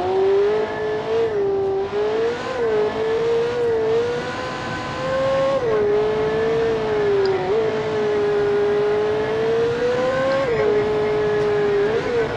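Car engine in the BeamNG.drive driving game droning loudly and steadily as the vehicle drives through a loop, pitch rising and falling with throttle, continuous and close with no talk.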